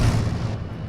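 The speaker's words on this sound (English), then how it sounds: "What was that explosion?" A heavy boom from a video-game explosion at an embassy compound in a military shooter, with low rumbling energy that fades over under a second; no talk.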